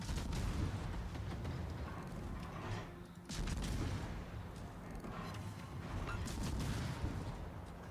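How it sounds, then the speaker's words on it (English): Heavy naval battle rumble in World of Warships as an enemy destroyer blows up, dense booming and cannon-like blasts filling the whole stretch, with a brief dip before a fresh surge of explosive noise. "Enemy destroyer blown up."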